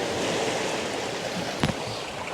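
Sea surf washing up over a shore, a steady broadband rush of water with a brief splash or knock near the end, close and continuous.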